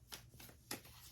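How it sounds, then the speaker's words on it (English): Tarot cards shuffled by hand in a few soft riffling bursts, with two sharper slaps, close up and fairly quiet with no talking. "Let me shuffle a little bit for our 3-card pick."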